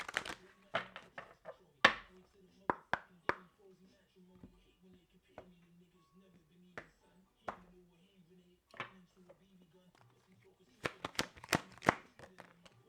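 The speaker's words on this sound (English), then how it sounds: "One more shuffle." Crisp riffling bursts of tarot cards being shuffled, a cluster near the start and a louder flurry toward the end, with a low hum and quiet pauses between.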